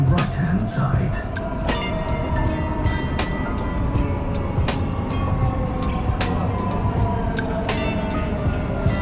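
A Dubai Metro train runs between stations near Dubai Healthcare City, a steady close rolling rumble and rail hum inside the car, with faint ticks and clicks.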